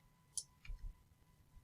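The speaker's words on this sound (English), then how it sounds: "all you would do is click on this paragraph" A single sharp computer mouse click, close and quiet, followed by a couple of soft low thumps in an otherwise near-silent room.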